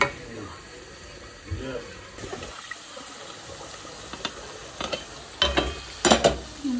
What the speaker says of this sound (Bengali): চিকেনটা একটু লাড়িয়ে দিলাম।